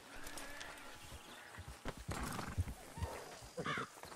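Horse hooves in the Red Dead Redemption 2 video game clop in a steady run of soft thuds, with a brief whinny-like call near the end.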